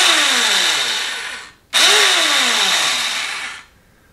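A Tecumseh 110V electric starter motor from a Toro CCR Powerlite snowblower runs with a loud, close whine. It spins up twice in quick succession, and each run winds down gradually in pitch.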